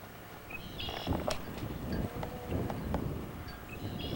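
Wind on a cold, wet day buffeting the microphone in low rumbling gusts, with scattered faint knocks and brief high chirps over the steady blustery noise.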